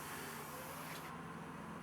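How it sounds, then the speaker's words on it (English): Silicone spray hisses steadily from an aerosol can onto a vintage road bike's brake cable, a faint continuous spray that cuts off abruptly about halfway through, leaving quiet room tone; no one speaks. "of good old silicone spray."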